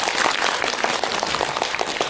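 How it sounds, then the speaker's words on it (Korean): Audience applause at a film talk event with a cine-talk crowd, dense and even clapping from many hands that carries at steady strength through the whole couple of seconds. "박수 한번 쳐드릴까요?"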